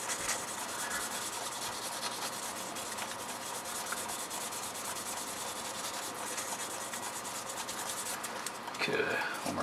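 A domed watch crystal is sanded by hand with 1200-grit paper, making a steady, continuous close-up rubbing scrape that carries on throughout with a brief shift at the very end.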